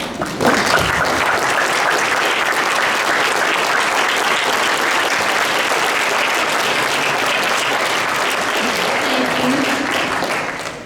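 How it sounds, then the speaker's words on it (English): Sustained, dense applause from a banquet audience, loud and steady for about ten seconds before tapering at the end; a faint voice may sound briefly near the close. "let's give a round of applause for these who have offered so much support to these students"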